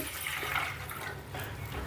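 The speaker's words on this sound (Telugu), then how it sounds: "ఇప్పుడు ఇది చిన్న కుక్కర్ కాబట్టి అర లీటర్ వాటర్ పోస్తున్నానండి" Half a litre of water pours into a small idli cooker, a steady close splashing trickle lasting under two seconds, with no talking.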